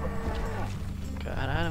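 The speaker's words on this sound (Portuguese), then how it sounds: "Ah, um boi." Cattle in a video game let out a loud, close, drawn-out moo that holds for the whole short moment, with a second swelling call near the end.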